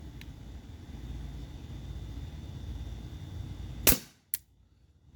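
A Glock 17 Gen 5 T4E .43 caliber training pistol fires twice near the end, one loud snapping crack and then a quieter second pop, over a constant low background rumble.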